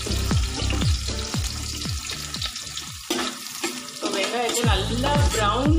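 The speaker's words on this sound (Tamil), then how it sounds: "இப்போ வந்து நம்ம வெங்காயத்தை போட போகிறோம்" Onions dropped into hot oil for chicken biryani crackle and fry loudly, with busy sputtering and a few clanks and swirls from the pan, heard close with no talk.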